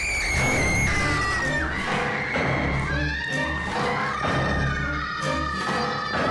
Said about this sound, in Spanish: ¿Por qué gritan?